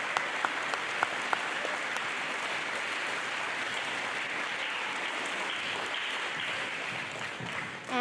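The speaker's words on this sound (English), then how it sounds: "Can we give a round of applause for the students and their questions?" A school audience at a birthday celebration claps for the students, steady, full applause from many hands that holds evenly throughout, with a few sharper individual claps standing out early on.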